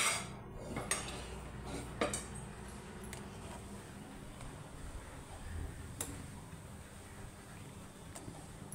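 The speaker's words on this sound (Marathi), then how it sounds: "सतत असं परतवत राहायचं, त्याला खाली लागू द्यायचं नाही।" Ladoo mixture is stirred and roasted in a pan over a low flame, with soft scraping and the occasional clink of a utensil against the metal, quiet and close, with no speech.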